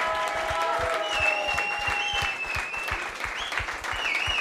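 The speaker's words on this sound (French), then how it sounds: "Encore des applaudissements, s'il vous plaît." Sustained, dense audience applause fills the room in a standing ovation for a departing television presenter at a final dinner event in Chambéry, with steady clapping and a few whistles throughout.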